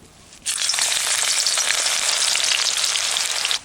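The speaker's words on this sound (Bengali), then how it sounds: "তেলটা ভালো গরম হয়ে গেছে এবার দিয়ে দিচ্ছি পেঁয়াজ কুচি" Chopped onion drops into hot mustard oil in a pan for a village-style mutton curry, setting off a sudden loud, close sizzle that holds steady for about three seconds.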